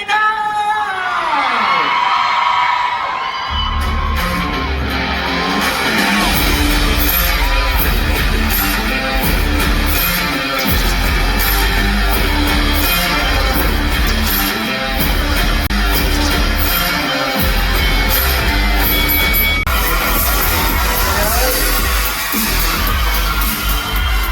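A loud concert crowd screams and cheers continuously, a dense wall of shrieking voices that stays intense throughout, greeting Thai actor Gemini Norawit at an opening presentation.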